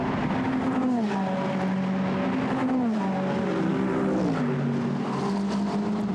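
GT race cars lap the Monza circuit during Blancpain Endurance Cup qualifying, a loud sustained engine drone whose pitch climbs and drops through gear changes and braking, with no talk heard.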